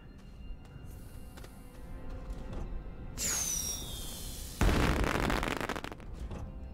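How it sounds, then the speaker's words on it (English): In the Astroneer video game, a firework launches with a rising whistle, then bursts loudly into a crackling, sustained pop over a low game-ambience hum. "Firework we'll place right here"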